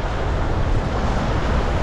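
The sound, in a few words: wind at the seashore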